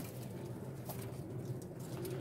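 Pigeons coo softly in low, throaty repeated calls, faint and steady against a quiet background, with no talking.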